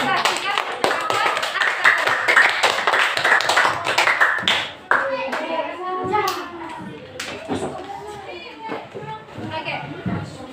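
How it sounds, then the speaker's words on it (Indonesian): Classroom applause as Arabic-class students at a Muhammadiyah madrasah tsanawiyah clap for classmates who just demonstrated a conversation, a dense patter of many hands mixed with children's chatter and a teacher's voice. "berikan tepuk tangan kepada teman-teman kalian yang sudah mendemonstrasikan percakapan"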